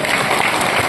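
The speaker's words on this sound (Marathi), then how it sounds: "टाळ्या वाजा" An audience at a tribal dance celebration claps in a brief, dense burst of applause, close and steady for under a second.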